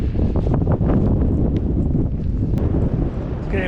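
Strong wind buffeting the microphone on a mountain ridge hike around Murton Pike and High Cup Scar, a loud continuous roar with gusty surges.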